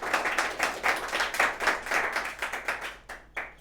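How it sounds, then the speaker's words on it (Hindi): Loud rhythmic clapping from a crowd at a student award ceremony, with brisk waves of hand claps in a steady beat that thin out and stop near the end, and a last burst after a brief pause. "हाँ जोरदार तालियां हो जाएं।"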